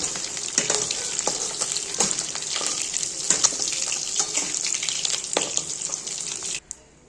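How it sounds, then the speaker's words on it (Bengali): Whole spices and dry red chillies crackle in leftover fish-frying oil in a kadai for a Bengali fish curry, giving a steady close sizzle with scattered pops and spits before cutting off abruptly near the end. "তো মাছ ভেজে যে তেল আছে ওই তেলের মধ্যেই পাঁচ ফোড়ন শুকনো লঙ্কা ফোড়ন দিয়ে দিয়েছি"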